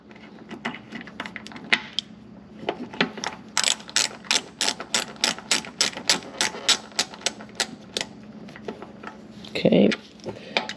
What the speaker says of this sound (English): And then we'll go ahead and start ratcheting it up.